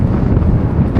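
Strong wind gusting across the open Buttermere fells and buffeting the microphone, a loud, close, continuous low roar with no other sounds.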